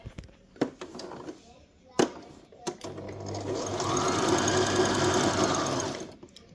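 A Brother JV1400 sewing machine running normal straight stitching, a close, steady mechanical whir of rapid needle strokes that builds after a few knocks and clicks of adjusting the machine.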